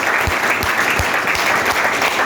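An audience at a Chandigarh seminar claps steadily, a dense, even burst of applause with no voices over it.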